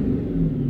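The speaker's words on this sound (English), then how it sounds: "So I can rev it up, and you see the throttle position open." Car engine idling and revving up as the throttle opens, a steady low rumble held close and loud with no voices over it.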